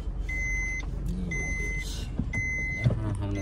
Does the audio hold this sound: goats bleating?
no